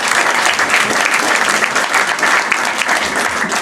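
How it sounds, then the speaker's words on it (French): A live audience at a stand-up comedy show in Nantes breaks into steady, dense applause that holds at full strength throughout without letting up, with no talking heard over the clapping from the crowd. "je crois qu'on peut les applaudir"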